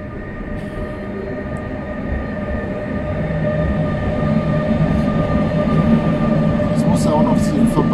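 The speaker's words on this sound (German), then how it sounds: "Das ist der langsamste Zug, der hier heute vorbeigefahren ist." A slow train rumbles past on the rail line, loud and close. Its steady roll builds gradually, and faint squeals and tones sit on top of it.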